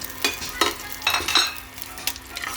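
Sizzling and crackling as cumin and green chillies fry in hot oil in a pan, with bursts of hissing and occasional stirring scrapes, close up.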